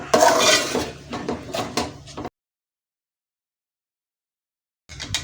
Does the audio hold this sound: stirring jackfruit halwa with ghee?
yes